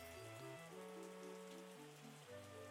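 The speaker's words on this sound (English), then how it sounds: "There's the rain." Rain in the wine-making simulator game Terroir, a faint, soft patter beneath a continuous melodic game music track.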